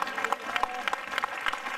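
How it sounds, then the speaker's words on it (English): A church congregation claps along in a steady, rhythmic beat, a moderately loud mass of hand claps filling the space with faint voices mixed in. "Come on, clap for Jesus."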